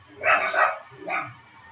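Small dogs yap nearby, a rapid double bark followed by a single shorter one, loud and close.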